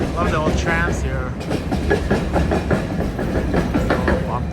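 An old tram rolls and rattles through Sofia, Bulgaria, a steady rumbling clatter of wheels on rails with rhythmic bumps, heard up close from on board, with a voice talking over part of it.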